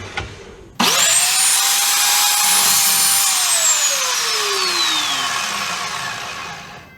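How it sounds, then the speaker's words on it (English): An Evolution S355CPSL chop saw cuts through steel square tubing: the motor spins up abruptly to a loud, high-pitched metallic scream that holds steady, then slowly falls in pitch as the blade runs down. No speech. "So I'm going to move the fence back to where it was and cut some of the square tubing."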